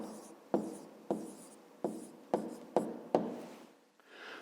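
Pen or pencil writing down the answer to a 5th-grade math problem on paper: seven distinct scratchy strokes in an even rhythm, close and fairly quiet, with no talking.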